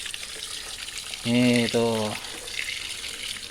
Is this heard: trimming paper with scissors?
no